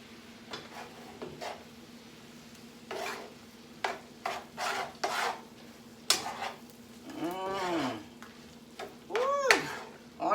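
A spoon stirs leftover New Year's Day food in a pot, making irregular close scrapes and rubs against the sides. Louder swishes come in short bursts over a faint steady hum.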